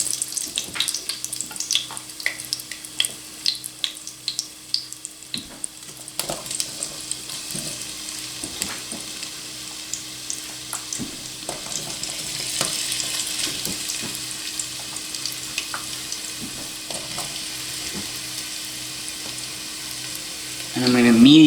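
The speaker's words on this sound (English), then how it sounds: "I'm going to be very careful dropping these in. I do not want to splash oil all over myself." Potatoes fry in hot oil, a steady close sizzle building after they go in, with scattered clicks and pops of kitchen handling and a low hum underneath.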